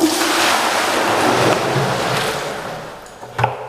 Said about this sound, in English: I put in this barrel, you see,